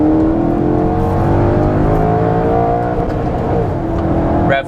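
A 2014 Maserati GranTurismo Sport engine revs hard and climbs steadily to the rev limiter, loud and close from inside the cabin, then the sound drops away abruptly at the end.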